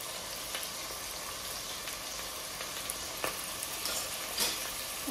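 Chicken mince sizzles in a pan with ginger garlic paste, a soft, steady frying hiss with occasional light scrapes of a spoon, and no talk.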